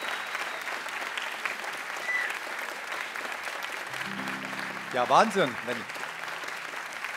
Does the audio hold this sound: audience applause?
yes